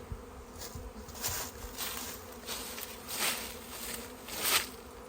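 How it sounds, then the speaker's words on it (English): Honeybees buzzing and fanning at a hive: a dense, steady hum of many wings that swells and fades in waves, close and fairly loud, with no talking. "she's queen fanning, she's queen fanning"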